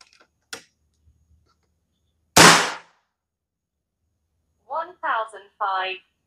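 A single sharp shot from a double-plenum air rifle cracks out after a few faint clicks, followed by brief speech a few seconds later.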